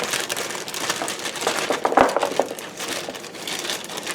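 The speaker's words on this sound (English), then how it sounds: "So I'm just going to cut these into thirds." Baby carrots being chopped into thirds on a cutting board: a run of quick, crisp knife strikes with crunchy texture, one louder chop standing out, heard close and alone without talk.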